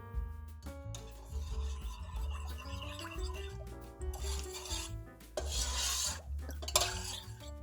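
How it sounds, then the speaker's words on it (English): A spoon rasps and scrapes repeatedly around a pot of panna cotta mixture on a stove, quiet rhythmic stirring strokes under tonal background music. "we're just going to stir this a little bit more and give it a couple more minutes on the stove"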